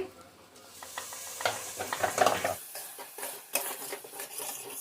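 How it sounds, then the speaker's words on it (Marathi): Tomato puree with Kolhapuri masala sizzles in oil as a spoon stirs and scrapes the pan, producing soft frying hiss punctuated by close, uneven clinks and scrapes. "आता छान याला टोमॅटोला तेल सुटेपर्यंत परतून घ्यायचं,"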